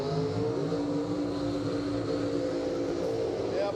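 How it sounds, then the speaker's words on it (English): A drag racing car holds a steady, loud burnout at a bracket race, its engine roar and tire scream sustained without a break for the whole few seconds. "Yep, I recognize them burnouts"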